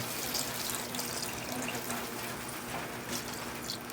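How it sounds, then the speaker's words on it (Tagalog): Water poured into a cooking dish for a Filipino home-cooked dish, a steady faint splashing trickle lasting a few seconds with no speech over it. "Lagyan natin siya ng konting tubig mga lods, konti lang naman, para magkaroon lang siya ng sabaw-sabaw."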